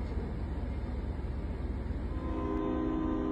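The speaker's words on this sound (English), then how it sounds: "A pickup truck with a trailer was pushed by a train near Mesquite, Texas." A freight train shoving a pickup truck and its trailer along the tracks near Mesquite, Texas, a continuous loud low rumble of rail cars with a steady tonal whine rising near the end, no voices.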